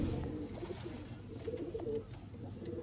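Sialkoti pigeons in a loft cooing softly, several low repeated coos rising and falling over a faint background murmur.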